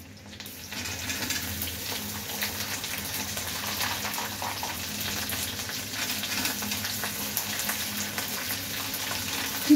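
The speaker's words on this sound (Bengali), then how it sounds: "এবার আমি কিশমিশ আর চিনে বাদামটা দিয়ে দেবো।" Raisins and peanuts frying with curry leaves in a pan over low flame for chira pulao, a steady close sizzle that runs unbroken and slightly builds, with no talking.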